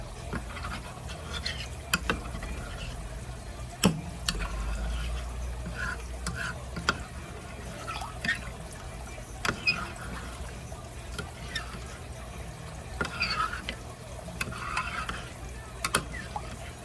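Raisin pie filling stirred in a pot, with intermittent scraping clicks and soft wet sloshing repeating over a low steady hum, close up.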